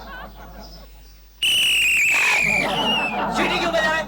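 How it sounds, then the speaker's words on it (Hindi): A watchman blows a shrill whistle in loud, sustained blasts with wavering pitch, following a stretch of quieter talk and background noise from a residential society. "सीटी क्यों बजा रहा है?"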